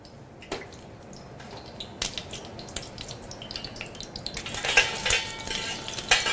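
Green and black cardamom and other whole spices sizzle in hot ghee in a pan, a soft crackling fry under clinks of utensils that grows denser and louder toward the end.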